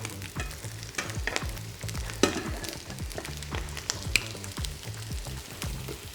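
Potatoes fry gently in a pan with a steady close sizzle, punctuated by repeated scraping and turning knocks from a utensil against the pan, with no voices.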